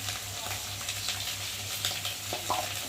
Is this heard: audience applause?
no